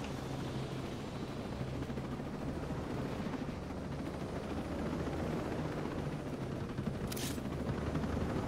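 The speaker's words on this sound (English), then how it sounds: "I'm gonna grab the frickin' helo then." A helicopter in Ghost Recon Breakpoint, a steady, dense rotor and engine roar running throughout at even loudness, with one brief crisp burst near the end and no talk.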